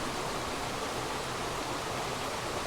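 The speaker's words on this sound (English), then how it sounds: "as the water comes cascading round" Brook water cascading down through Padley Gorge in the Peak District, a steady, dense rushing roar that holds constant throughout, close and even, with no voices.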